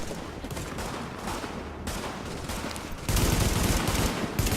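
Sustained gunfire in The Division, set in infected New York: continuous rapid automatic shooting that is loud and close throughout and grows heavier partway through, with no talk over it.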